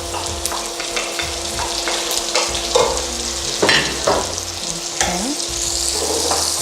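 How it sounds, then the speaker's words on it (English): Onions and garlic fry with ground beef in a hot pan, a steady close sizzle broken by scraping stirs and occasional utensil knocks. "Now I'm gonna add the onions mixed with the garlic."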